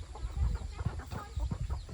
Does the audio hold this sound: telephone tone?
no